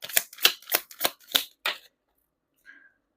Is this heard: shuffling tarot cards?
yes